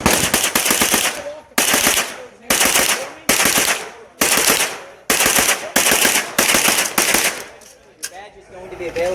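Rapid bursts of automatic gunfire at a live fire range, loud and close, repeating in short strings with brief pauses between volleys.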